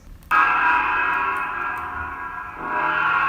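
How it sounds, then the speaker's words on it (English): Computer timer final bell sounding once: a sharp onset then a sustained, steady ringing tone that slowly fades and swells slightly near the end, close and moderately loud with no talk. "So the final bell will sound like this."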